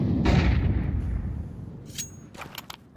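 A flashbang grenade bursts loudly in a tactical shooter video game, a heavy booming blast that decays over a second, followed by a few sharp, fainter cracks of gunfire.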